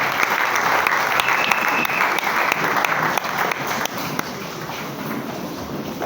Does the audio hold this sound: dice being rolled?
no